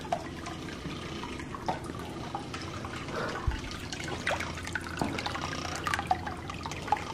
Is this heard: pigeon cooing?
no